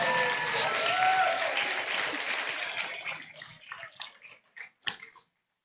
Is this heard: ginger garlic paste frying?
no